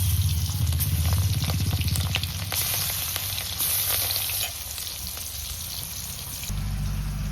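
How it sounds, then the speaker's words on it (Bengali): Rohu fish pieces fry in hot oil in a home Bengali kitchen, a loud, steady sizzle running the whole seven seconds with faint clinks and stirring underneath and no voices. "তেল গরম হয়ে গেছে মাছগুলো ছেড়ে দিচ্ছি"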